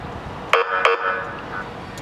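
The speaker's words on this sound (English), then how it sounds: "Air horn." Air horn on a 2011 Ford Crown Victoria police car fires two short, sharp blasts about a third of a second apart, loud and close, over a low background hum.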